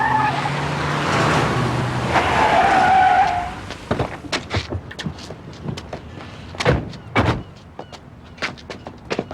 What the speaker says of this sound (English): Cue the gangster car.